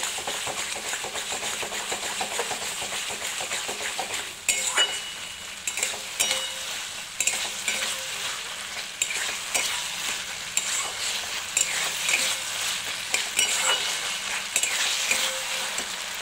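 Chili chicken masala is stirred and fried in a pan at home, with a steady sizzle under repeated scraping strokes of the spoon against the pan, up close and without talk.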